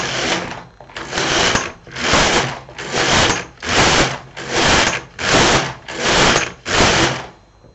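LK 150 knitting machine carriage sliding back and forth across the needle bed while knitting rows of contrasting waste yarn, nine loud, even, rhythmic mechanical swishing passes with brief gaps between them, close and alone.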